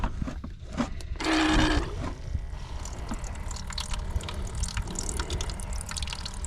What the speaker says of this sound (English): I haven't charged my water dispenser in a while.